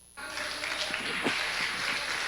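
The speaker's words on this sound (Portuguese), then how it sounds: "Você pode aplaudir ele por isso?" A church congregation applauding during a sermon, a dense steady clapping that starts abruptly and holds at an even level throughout, with a faint voice or two mixed in.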